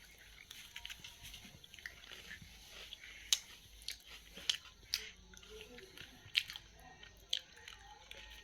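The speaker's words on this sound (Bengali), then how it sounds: "আমরা এখন অরিও বিস্কুট খাচ্ছি" Someone eating an Oreo biscuit, with several sharp crunchy bites and soft chewing spread over the stretch, fairly close and quiet, with a faint voice in the background.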